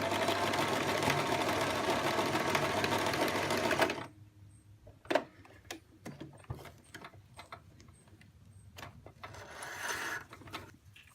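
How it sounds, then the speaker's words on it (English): A sewing machine stitches a zigzag buttonhole at short stitch length, a close, fast mechanical whirr for about four seconds, then stopping into scattered clicks and knocks before a short burst of running again. "let's go to the sewing machine and I'll show you all the settings"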